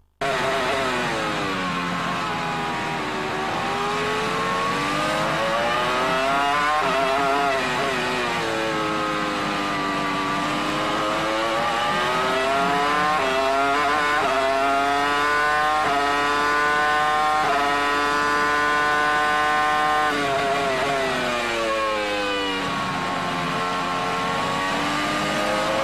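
Onboard with Mika Salo's Formula One car during Saturday practice at the 2002 Hungarian Grand Prix, the engine screams loud and close, rising and falling through repeated upshifts and downshifts in a continuous, uninterrupted run.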